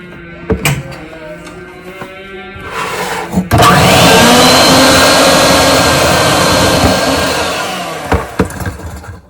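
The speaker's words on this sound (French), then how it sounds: "je continue de faire le gras en sucre et bien battre" Electric mixer beating fat and sugar, a loud whirring drone that starts after some clatter, holds for several seconds and fades, with knocks of the bowl around it.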